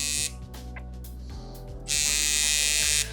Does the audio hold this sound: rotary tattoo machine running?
yes